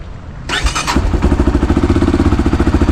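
EFI Tekken 250 motorcycle engine cranks and catches after half a second of quiet, then settles into a loud, steady, close idle with an even pulsing beat.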